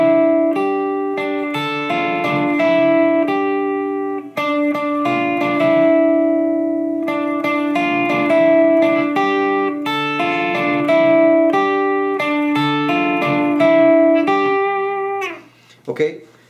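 An electric guitar riff, played on the second and third strings. Clean, sustained picked notes ring over a constant low drone, repeating in steady phrases before fading into fumbling string noise at the end.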